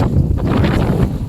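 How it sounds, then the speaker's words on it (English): Strong wind buffeting the microphone on a hilltop during a monsoon trek, a loud, continuous rumbling roar with gusty surges. "Damn, the wind."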